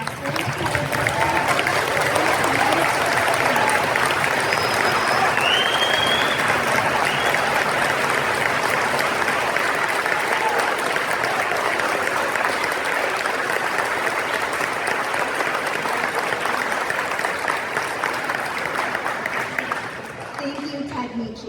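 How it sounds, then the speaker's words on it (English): An audience at a high school veterans ceremony rises for a standing ovation, and dense, loud applause fills the hall continuously for about twenty seconds before it begins to thin near the end. "audience, if you could please rise and give Ted a standing ovation"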